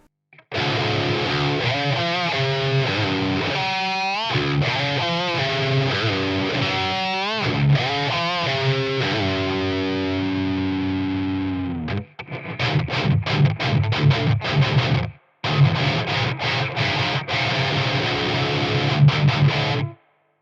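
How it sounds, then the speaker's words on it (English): Electric guitar played through a Randall RH300 G3 amp with an Ibanez Tube Screamer boosting it, giving distorted chords and sustained notes, then choppy palm-muted chugging after a brief stop, loud and alone. "we'll just try an Ibanez tube screamer on top of that"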